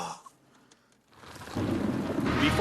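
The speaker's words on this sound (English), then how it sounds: "we got a storm. Rain comes pouring down." A thunderstorm breaks, with a faint rumble first, then heavy pouring rain that swells into a dense, loud, steady roar over the last second and a half.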